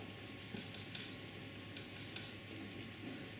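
A palette knife mixing oil paints of burnt sienna, red and blue on a palette, giving soft continuous scraping and smearing strokes, close and fairly quiet, with no talking.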